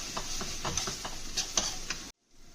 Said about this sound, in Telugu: ఇది ఎగురు అనుకుంటున్నాను కాబట్టి కొంచెం ఆయిల్ పైకి తేలే వరకు ఫ్రై చేసుకోండి